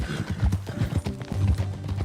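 Horse hooves clip-clopping in Red Dead Redemption 2, a steady rhythmic trot of close, thudding hoofbeats with a brief whinny-like sound, no voices over it.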